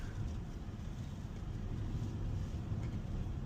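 Toyota Tacoma pickup truck drives along, a low engine and road rumble heard steadily from inside the cab with some wind noise and no talking.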